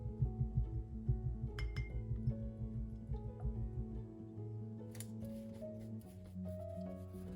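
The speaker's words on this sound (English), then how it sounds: "I'm gonna go ahead and wash that brush off really well" A paintbrush is swished and tapped against a glass water jar, giving quick, rhythmic clinks and a watery rattle up close that loosen into slower knocks and swirls.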